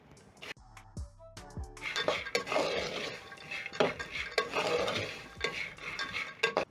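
Peanuts are tossed and stirred in a pot on the stove, producing a rapid rattling, scraping patter of nuts against metal with a few sharp clinks, moderately close and continuous.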